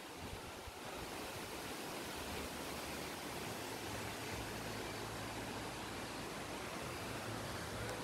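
A steady, broad rush of falling water fills the air at a waterfall on a farm in Tampakan, South Cotabato, constant and full throughout with no voices over it.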